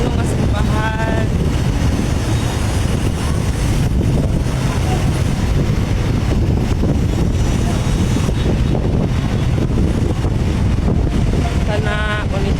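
Strong wind buffets the microphone without letup at an outdoor hangout spot in CDO, a loud, continuous roar with voices talking faintly beneath it.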